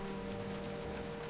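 In Jurassic Park: The Game, a rainstorm pours as a dense, steady hiss of rain beating on surfaces, loud and continuous, with a faint low hum beneath.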